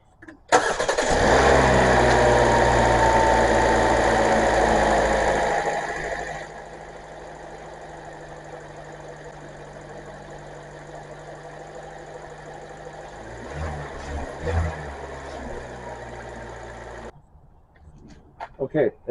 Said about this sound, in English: let's see what the engine sounds like before